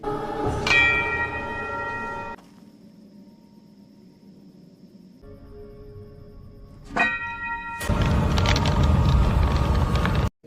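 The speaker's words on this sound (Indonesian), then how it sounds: "Tiba saatnya mereka membunyikan sebuah lonceng." A bell strikes with a long ringing tone that fades, then strikes again before a loud rumbling noise swells in.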